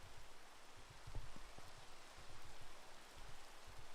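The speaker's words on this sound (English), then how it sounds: "over the in-game rain sound, it's probably a little harder to hear me," Steady in-game rain hiss from Minecraft, a soft continuous wash of noise with faint low thumps underneath, quiet and even throughout.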